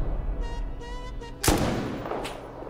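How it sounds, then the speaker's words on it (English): Rockets fire in the Rust video game: a sharp, loud blast hits after a low rumble and a tonal whine, and a fainter second burst follows a moment later. "Oh, they're rocketing! They're rocketing!"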